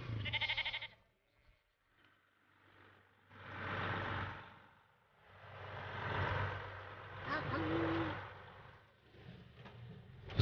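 Sheep bleat from inside a four-deck livestock transport truck, with several drawn-out, fairly faint calls rising and falling over an engine rumble.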